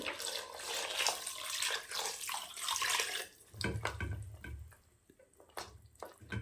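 Water pours steadily into a cooking pot of goat trotter curry for a few seconds, then gives way to clinks and splashes of the pot being handled.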